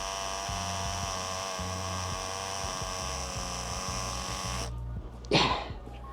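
A Tyco C430 Power Torque slot car motor, freshly fitted with new brushes, runs with a steady high buzzing whine close by; it stops near the end, then a brief thump or rustle follows.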